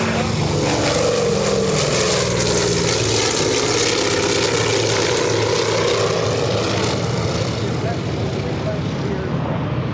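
A C-47 propeller transport plane flies past at an air show, its piston engines giving a loud, continuous droning roar that stays strong for the whole stretch.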